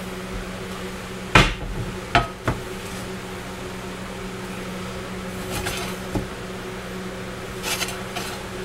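A big metal skillet pulled out and handled in a home kitchen, with a few sharp clanks and knocks early on followed by lighter scattered taps and bumps over a quiet room.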